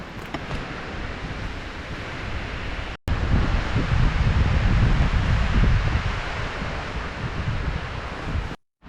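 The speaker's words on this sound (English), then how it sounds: "it is super windy" Strong wind blasting across a cold winter hot-tent campsite, a steady broadband roar buffeting the microphone, briefly cutting out near the third second and surging louder afterward before dropping off at the end.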